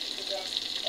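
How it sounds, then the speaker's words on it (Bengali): Onion and chili frying in hot oil, a steady dense sizzle that crackles continuously and fairly close throughout the second, with no talk over it. "এখন পেঁয়াজ মরিচটা আগে একটু ভেজে নিতে হবে"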